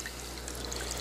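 Water flows and trickles in a home aquaponics tank driven by a pump, a steady, soft wash with a low hum beneath it.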